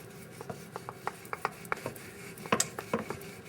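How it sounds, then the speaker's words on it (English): Kathi roll pinwheel dough pressed and smoothed with a rolling pin gives a close series of light knocks and rubbing scrapes in an uneven rhythm, a little louder toward the end. "Smoothen it out with your rolling pin."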